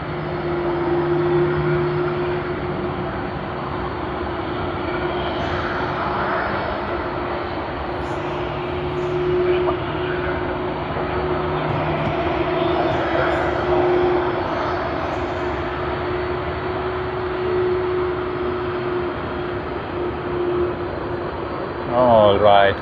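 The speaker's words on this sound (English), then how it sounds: "Cathay Pacific has begun its takeoff roll to Hong Kong" A Cathay Pacific A350-900 airliner begins its takeoff roll at Sydney Airport, its steady jet engine roar heard from a distance as a sustained drone with a faint whine.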